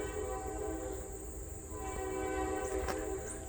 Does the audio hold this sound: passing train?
yes